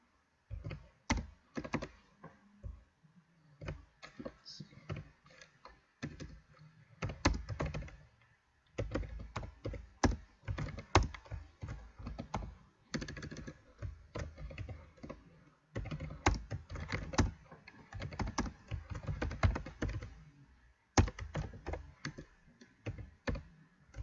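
Fingers type text on a computer keyboard in quick bursts of clicks with short pauses between them, close and fairly quiet, with no talking.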